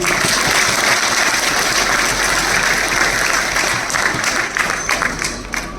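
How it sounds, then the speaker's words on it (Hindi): Audience applause at a Hindi comedy poetry recital: a dense, sustained wash of many hands clapping at steady loudness, thinning slightly toward the end. "आप जरा मन से तालियां बजा दीजिए।"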